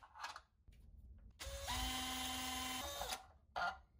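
Power screwdriver backing out screws from a shower valve escutcheon faceplate, a short high whirring burst of about a second and a half between brief clicks and handling sounds, close and clear.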